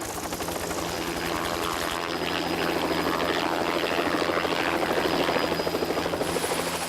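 A helicopter flying over an African wildlife area during an elephant capture operation, its rotor chop steady and dominant, heard from close by, with a continuous engine whine and no voices.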